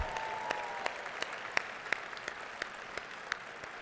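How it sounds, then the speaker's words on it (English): Audience applause at a live awards ceremony honoring previous Giant Award recipients, a steady wash of many hands clapping from a room full of people, with sharper individual claps popping out at irregular moments throughout. "Come on, that deserves a huge round of applause."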